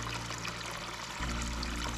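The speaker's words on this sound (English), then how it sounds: "this first time you water, it says to water it until the water comes out the bottom" Water poured into a Greenstalk vertical planter, a steady continuous splashing pour that fills the whole stretch, loud and close with a slight change in tone partway through.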